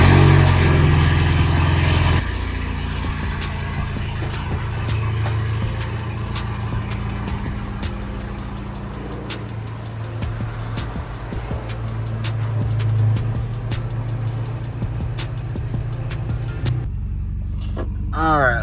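A BMW car engine idles, then drives off with a loud low rumble and revs that rise and fall, sustained close by for most of the stretch before cutting away near the end.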